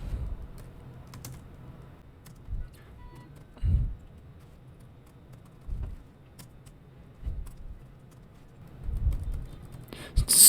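Quiet, irregular keystrokes on a computer keyboard during a coding session, with isolated clicks and short bursts of typing separated by pauses.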